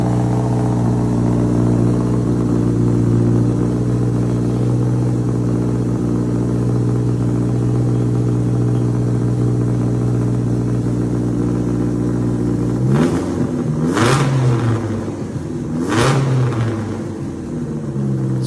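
A twin-turbo Voodoo engine without a crossover pipe, sounding like two Subarus, idles with a steady loud droning burble, then blips two sharp revs near the end.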